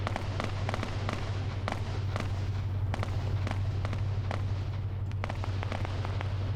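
A 5.56 machine gun fires in a video game as sharp, distant cracks in irregular short bursts, heard over a steady low droning hum.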